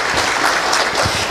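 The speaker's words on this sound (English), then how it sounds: "Give him a big round of applause" Audience applause, a dense, loud burst of many people clapping together for the whole short moment.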